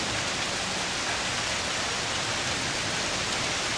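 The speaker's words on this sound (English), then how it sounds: "You can hear the rain coming down, beating down on the pavement," Steady rain beats down on pavement and a roof, a dense even hiss of drops close by, with no voices.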